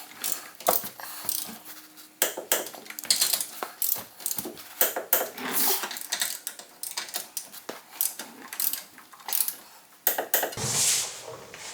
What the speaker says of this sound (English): I torqued these down to 46 foot-pounds